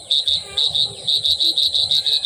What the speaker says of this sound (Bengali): শুনছো ঝিঝি পোকার ডাক?